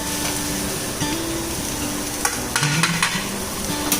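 Ginger and chili powder stirred into hot oil in a frying pan while making chicken kheema fried rice, a steady sizzle with scraping spoon strokes and clinks growing busier toward the end.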